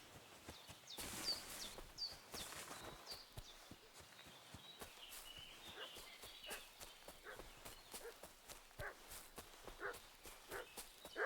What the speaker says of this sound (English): Here's the dog barking.